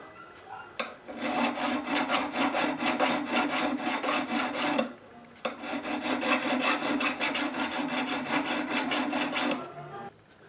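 A file is drawn in rapid back-and-forth strokes across the tops of guitar frets during a Gibson L48 restoration, giving a close, rhythmic rasping in two bursts separated by a brief pause.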